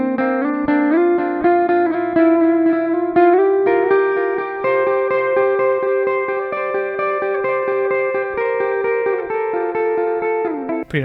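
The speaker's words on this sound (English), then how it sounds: "Pretty nice delay, slap a reverb on after." A distorted electric guitar through an amp plugin plays sustained notes and chords, drenched in delay and echo, loud and continuous with no voices.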